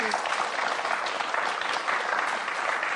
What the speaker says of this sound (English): So please give her a round of applause for that.